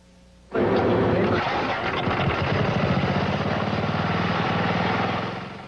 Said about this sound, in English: This engine is powered mostly by Mountain Dew, along with a bit of gasoline.